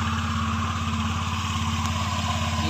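Honda Click V2 scooter engine running after CVT cleaning, a steady close low putter with rapid even pulses, loud and constant with no talk.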